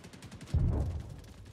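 A single heavy, muffled gunshot booms in Star Citizen ground combat, a short deep thud that fades quickly against a quiet background.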